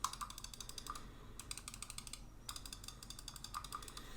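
Rapid clicking of Razer DeathAdder V2 Mini optical mouse switches in quick bursts with short pauses, crisp and close, no voices.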